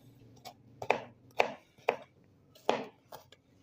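Knife finely chopping onion on a board, a series of about seven crisp, close thuds in an uneven rhythm with short pauses between strokes, heard alone.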